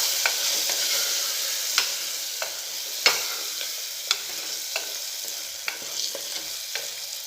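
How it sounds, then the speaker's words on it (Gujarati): Peel-on potatoes frying in oil in a cooker are stirred with a spoon, giving a continuous sizzle punctuated by a series of sharp scrapes and clicks against the pot at irregular intervals. "મિક્સ કરી લઈશું।"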